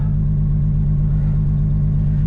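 A VR6 engine-swapped Audi RS3 drives along, its motor a steady, loud low drone with a pulsing, throbbing rumble and no break throughout.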